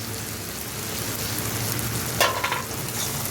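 Ginger, garlic and dried chili paste fries with softened tomato in oil, giving a steady close hiss and sizzle, with a brief clink or scrape near the end and no talk.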